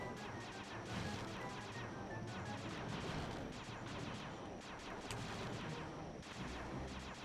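Turret gunfire in the video game Sly 2, a dense, continuous barrage of blasts and crashing impacts that keeps up steadily from start to end with no gaps, loud and busy throughout.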